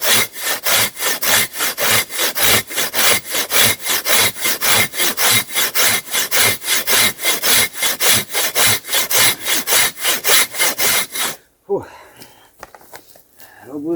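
A powerful saw cuts through wood in steady, rhythmic back-and-forth strokes for about eleven seconds, loud and close, then stops abruptly, leaving quieter shuffling and a faint breath.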